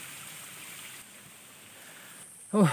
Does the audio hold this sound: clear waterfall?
yes